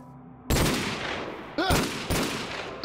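Three loud gunshots ring out in a Minecraft pistol duel, one sharp blast followed by two more about half a second apart, each trailing into a long, booming echo.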